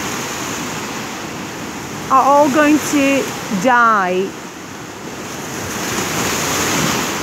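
Ocean surf washing ashore near people on surfboards, a steady broadband roar running the whole time with someone talking over the middle part.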